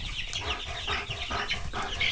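White Rock meat chickens on day 25, several birds clucking and murmuring in short repeated bursts, close by and moderately loud over a steady background hum.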